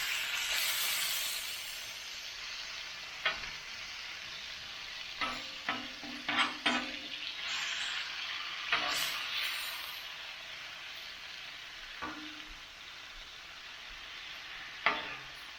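Frying on a Blackstone griddle with clarified butter and grapeseed oil for Philly cheesesteak, a steady sizzle with scraping spatula clatter and clicks scattered throughout.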